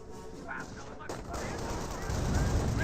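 Gunfire rattles through a Company of Heroes battle as medics and rifle squads push forward, dense bursts growing louder toward the end beneath a voice commenting over the action.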